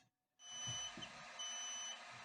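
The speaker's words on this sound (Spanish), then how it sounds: "esa es la alarma que está sonando" An automatic egg incubator for hen eggs sounds its temperature alarm, two long high-pitched electronic beeps at low volume, with faint handling noise underneath.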